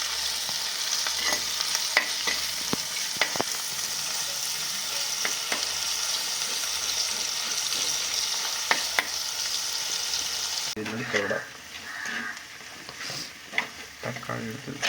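Onions sautéing in coconut oil in a pan for a Kerala-style fish curry, a steady close sizzle with scraping stir strokes throughout, turning more uneven and bubbly near the end.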